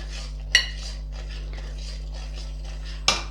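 A drop of boiling tilgul sugar syrup cracks as it cools and sets, giving two sharp, clear clicks a few seconds apart over a steady low hum, with no talking.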